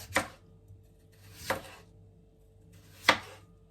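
Three crisp knife chops through potatoes on a cutting board in a home kitchen, evenly spaced and close by, with quiet pauses between strokes.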